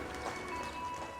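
Hooves clip-clop quickly and faintly in an even, running rhythm, likely horses on the move, set against a steady background hum with no talk.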